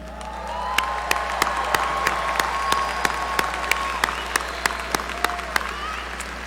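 A large audience at a university undergraduate commencement ceremony claps steadily, a dense, sustained wash of applause with scattered sharper claps standing out, steady in level throughout.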